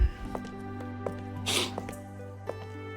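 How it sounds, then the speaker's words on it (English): A single sneeze bursts out near the middle, close and fairly loud, over a steady background hum from a visual novel game playing, with small clicks before and after. "I'm gonna sneeze."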